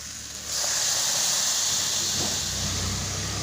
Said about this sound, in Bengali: এখন রান্না হচ্ছে আলু কুমড়োর তরকারি, তবে শুধু আলু কুমড়ো নয়, এর মধ্যে শিমও দেওয়া হয়েছে।